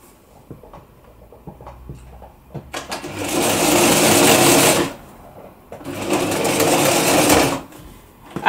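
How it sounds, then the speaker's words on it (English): A sewing machine stitches a seam on a knitted cardigan made on an SK280 knitting machine, running in two steady bursts of about two seconds each with quiet pauses around them; no one speaks. "You're stitching on 2 millimeter seam allowance or so."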